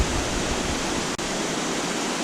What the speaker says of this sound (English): You can see there it continues to tumble down. Some cascades as it heads into the lake.